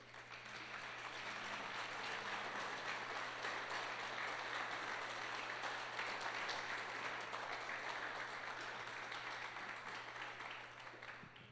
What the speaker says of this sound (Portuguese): Eu queria que você ficasse de pé aplaudindo Jesus.